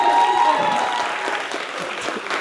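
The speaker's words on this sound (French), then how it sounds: "donc on peut l'applaudir" A crowd applauds steadily, dense clapping throughout with a faint tone ringing underneath, holding fairly even before easing slightly toward the end.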